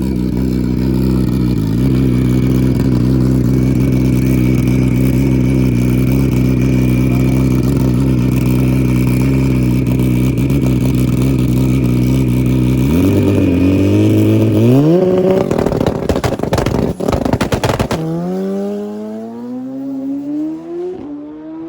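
A brand-new 700 hp Suzuki Hayabusa drag motorcycle on Dunlop drag tires launches down an NHRA drag strip. Its loud, droning engine holds steady, then its revs climb sharply and the roar fades into the distance.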